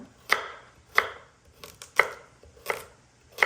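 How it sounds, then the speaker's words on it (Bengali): A knife chops carrot and other food into chunks on a cutting board. The strokes are close and crisp and come at a steady pace of about one thwack every half second or so, with no talking. "এখন আমি এগুলি চাপ চাপ করে কেটে নেব"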